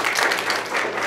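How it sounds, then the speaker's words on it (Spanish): Audience applause after a call with Franklin Chang-Díaz, a brief, steady burst of many hands clapping at moderate loudness with no voices over it. "démosle un gran y cariñoso aplauso"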